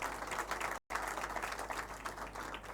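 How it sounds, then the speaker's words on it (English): Audience clapping at the Absa Bank Kenya launch event, a soft sustained round of applause with a brief dropout, distant and fairly faint. "Let's give them a clap."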